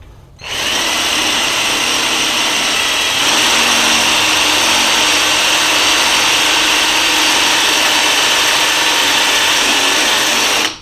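Power drill running steadily at close range for about ten seconds while boring pilot holes during a DIY car awning build, with a constant high whine and a slight shift in pitch partway through.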